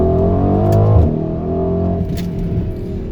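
A 2020 Mercedes GLC 63s AMG Coupe accelerates hard in second gear, its engine note rising loudly and close, then dropping sharply at a shift into a lower, steady rumble.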